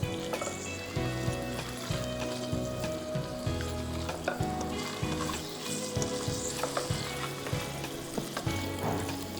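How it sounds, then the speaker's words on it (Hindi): Small cubes deep-frying in hot oil in a pan give a continuous busy sizzle and bubbling with frequent light stirring clatters, steady and moderately close for the whole stretch. "इतने इतने छोटे छोटे क्यूब्स करके इसमें डाल के आप इसको अच्छी तरह से फ्राई कर लीजिए।"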